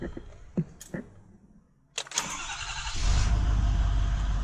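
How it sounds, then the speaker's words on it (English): A Ford Super Duty pickup engine is started after an exhaust gas temperature sensor replacement: a few clicks and knocks, a brief crank, then the engine catches and settles into a loud steady idle up close. "Now the real test will be when we start the truck."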